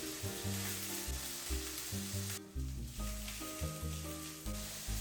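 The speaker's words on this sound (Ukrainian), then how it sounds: "Цибулю викладаю в сковорідку." Onions frying in a pan, a steady hiss with a dense background that briefly thins partway through, and no talking.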